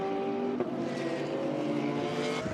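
Race cars, a Porsche and a Ferrari, circle the track at the Shanghai 8 Hours, giving a steady, loud engine drone with shifting pitch as the cars pass.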